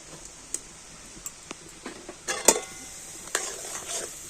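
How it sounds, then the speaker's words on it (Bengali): Grated coconut is stirred into date palm jaggery in a pan, giving faint sticky scraping and soft sizzle punctuated by sharp clinks of a utensil against the pan, close and sparse, with no talking. "তো নারকেল কুড়োটা গুড়ের সাথে একটু ভালো করে মিশিয়ে নেব।"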